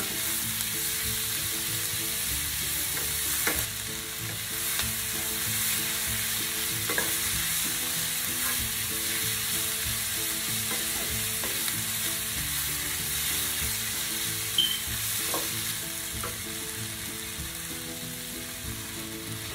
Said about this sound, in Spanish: Ahora estamos agregando las rajas y vamos a dejar que se sofría por un ratito.